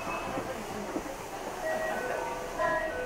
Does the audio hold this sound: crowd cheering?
no